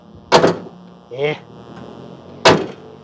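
A Daihatsu Luxio X car door slams shut twice with sharp, close thuds about two seconds apart, and a short voice comes between them.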